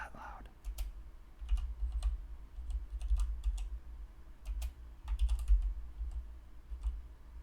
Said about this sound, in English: Also keyboard ASMR, fuck it.